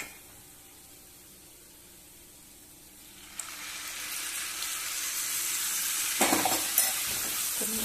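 After a quiet start, palak paneer with curd sizzles in a pan as it is stirred, the frying hiss rising midway and growing steadily louder, with a few scraping stirs near the end.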